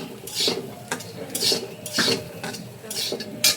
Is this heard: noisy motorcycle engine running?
no